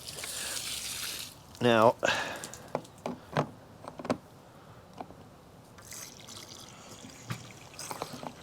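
Water is poured to thin bleach for sanitizing the fresh water tank of a vintage truck camper, a brief splashing pour followed by sparse drips and knocks, with a person speaking a word.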